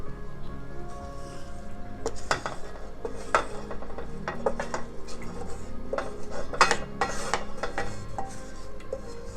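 Metal pots, pans and utensils clank and scrape in a home kitchen while fried tomato and onion go into a pressure cooker for potato stew with coconut, giving repeated sharp clatters and knocks at close range with no talking.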